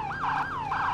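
Wailing police siren in the Farming Simulator video game, a clear rising and falling sweep repeated about three times in quick succession, loud with no talking.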